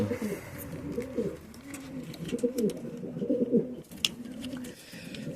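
A returned racing pigeon coos in soft, repeated rolling phrases close by, steady through the moment, with faint background noise and a brief sharp click near the end.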